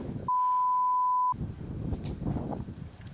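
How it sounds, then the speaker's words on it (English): A censor beep, a single steady pure tone lasting about one second, cuts in sharply to cover a word, with a voice before it and continuing afterward. "I just beeped it out because it sounded bad"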